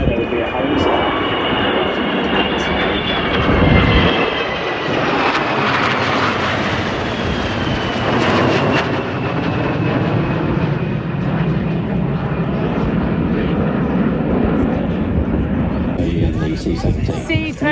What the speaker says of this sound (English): C-27. Fairly short landing here